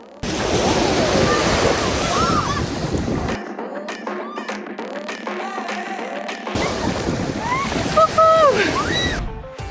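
Sea waves wash onto the beach at the Magaluf resort in Spain, a loud, continuous surf roar with buffeting wind noise. The noise drops out briefly in the middle, and voices are heard along the shore.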